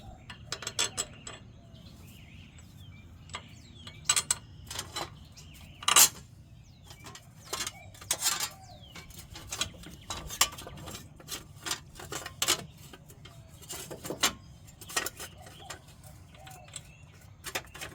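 Bolts are being threaded and tightened to hold the shield on a Yukon Tahoe front hub: sharp metallic clicks and ratchet-like taps come in irregular bursts, close and moderately loud, with quiet gaps between them.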